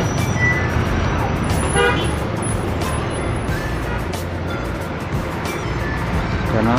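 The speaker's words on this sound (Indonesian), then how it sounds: "Dan di belakangnya ada bus Sugeng Rahayu Patas ya, datang" Sugeng Rahayu Patas intercity bus arriving on a busy road from the Jogja direction, engine rumble amid steady loud traffic noise with short horn toots and high-pitched honks near the start.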